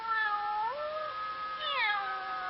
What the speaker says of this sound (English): the cute little kittens in his own house